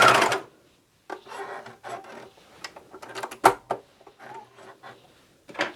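A Juki MCS1500 coverstitch machine runs in short stop-start bursts of rapid stitching, close and fairly loud, separated by brief pauses and handling clicks.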